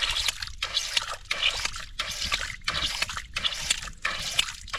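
Water turned on at a battery-powered line-locating thumper setup, flowing through a water line: steady trickling, dripping flow broken into rhythmic bursts about every half second, with regular brief gaps, close and moderately loud, no talk.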